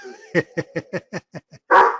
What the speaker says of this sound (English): One of the problems is that he's a dog.